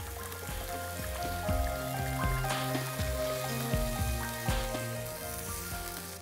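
Water poured into a pan of sautéed peas sets off a loud, bubbling sizzle and crackle that stays steady for several seconds over soft background music.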